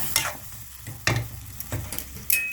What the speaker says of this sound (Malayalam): വാളൻപുളി ഉണ്ടല്ലോ അത് പിഴിഞ്ഞ വെള്ളമാണ് ഞാനതൊന്ന് ഒഴിച്ചു കൊടുക്കുക